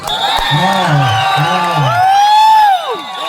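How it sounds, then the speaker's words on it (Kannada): A packed crowd at an eliminator match in the Konihara Trophy 2025 between Durgashree Halady and Challengers Japthi erupts in loud cheering, with rising whoops and shouts over a continuous roar lasting about three seconds. "ಆಹಾ, ಒಂದು ಜೋರಾದ ಚಪ್ಪಾಳೆ ಗುಂಡನಿಗೆ ಬರಲಿ"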